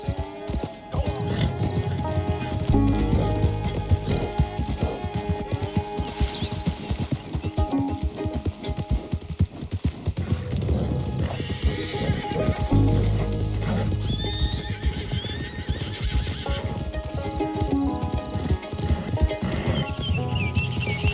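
A runaway horse in the Red Dead Redemption 2 video game clip-clops with rhythmic hooves and lets out whinnies, close and clear over a musical game score, with brief voices now and then.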